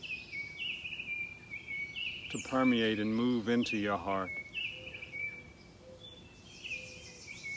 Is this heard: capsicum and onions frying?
no